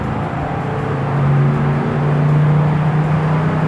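Cabin drone of a 1967 Plymouth Fury III cruising at about 70 mph on a cold day, a steady low engine hum with a faint whining tone and road rumble, no talk.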